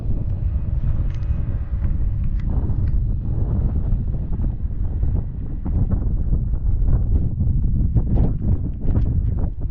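Strong wind buffets a camera microphone on a windy beach at Flamanville port, a loud, continuous low rumble with gusty roaring bursts throughout.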